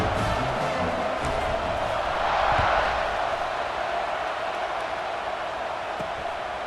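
Stadium crowd noise from the EA Sports College Football 26 video game, a steady roar of cheering that swells slightly near the middle and then settles into a sustained wash.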